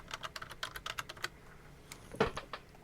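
Computer mouse clicks and drags while arranging plants in an online garden planner, a rapid run of light plastic clicks followed after a pause by a brief louder cluster, close and alone.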